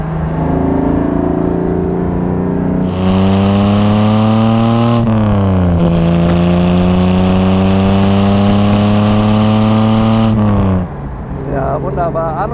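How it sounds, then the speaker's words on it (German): The 3-litre aluminium six-cylinder of a 1962 Mercedes 300 SL Roadster runs close by, idling steadily and then rising in two long revs that fall back to idle. "Alu-Maschine hat 3 Liter Hubraum, 6 Zylinder und 215 PS."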